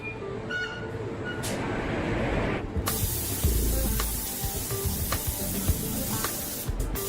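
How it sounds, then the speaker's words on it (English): Paint spraying onto a Koenigsegg car part in a factory paint station, a steady close hiss running throughout that swells louder partway through, with no talking. "Only when it's flawless will paint be applied."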